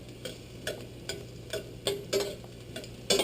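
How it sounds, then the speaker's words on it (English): Garlic sautéing in a pan, with a soft low sizzle under a spatula stirring and scraping in regular close strokes. "let's saute the garlic real quick."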